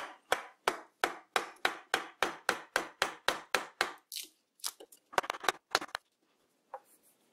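A long run of rapid, evenly spaced wooden knocks as a wooden mallet strikes a chisel, then a few irregular taps and scrapes before stopping.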